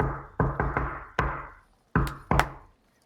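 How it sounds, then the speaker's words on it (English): Someone knocks on a stone cobblestone inset: a series of six sharp, hollow knocks in two groups, four then two, close and loud with no talk. "She walks up to one of the stone cobblestone insets, and she knocks."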